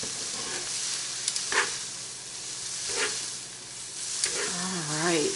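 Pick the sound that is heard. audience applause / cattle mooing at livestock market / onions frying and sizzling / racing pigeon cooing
onions frying and sizzling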